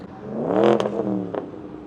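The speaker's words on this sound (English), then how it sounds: "That BMW has been revving like that for the last like 3 minutes." A BMW engine revs repeatedly at a car meet, sharp throttle blips swelling and falling over a couple of seconds, fairly close and clear with no talking.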